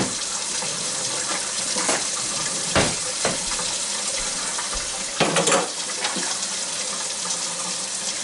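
Hot water runs steadily from a kitchen tap, filling a cup for chicken broth, a loud continuous stream with a few brief clunks and splashes partway through and no talking.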